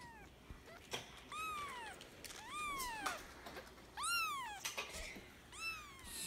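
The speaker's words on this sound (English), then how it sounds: "You're holding a baby kitten." A baby kitten meows repeatedly, five or six rising-then-falling high cries spaced about a second apart, close and clear over a quiet background with no talking.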